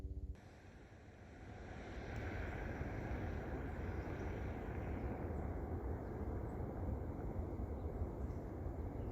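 Sea heard from the coast near Moss Landing, California, a faint, steady broadband wash of surf and wind that swells slightly after the start and holds constant, with no talking.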